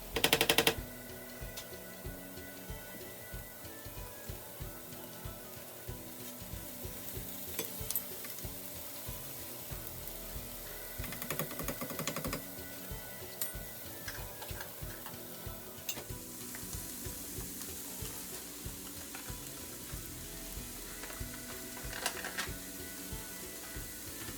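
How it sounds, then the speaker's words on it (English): Homemade broth is whisked into a white gravy in a pan, giving a steady close sizzle with rapid scraping and clinking strokes from the whisk and a sharp clatter at the start. "I'm gonna go ahead and just whisk in this broth until it's nice and yummy,"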